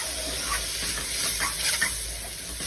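A hot pan of spring roll vegetable filling is stirred, with a steady sizzle and soft spatula scrapes repeating close by, without any voices.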